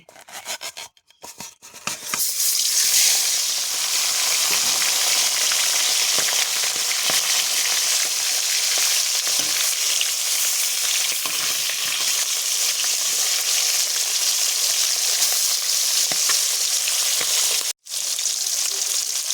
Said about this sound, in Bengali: তেলটা গরম হয়ে গিয়েছে এখানে আমি মাছগুলো সব দিয়ে